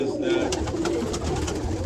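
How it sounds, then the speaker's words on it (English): Pet pigeons coo in a steady low murmur, a close and continuous flock sound with some bird chatter mixed in; a voice is faintly present. "Look at my birds."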